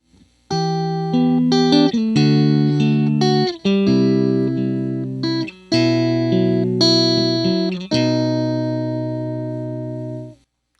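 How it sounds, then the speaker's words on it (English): A Fender Stratocaster electric guitar plays clean through a Vox AC30 amp, with a series of ringing, sustained chords in a slow rhythm, each decaying into the next, and a final chord fading out alone. "I'm playing on a Fender Stratocaster to a Vox AC30. Here's the clean signal."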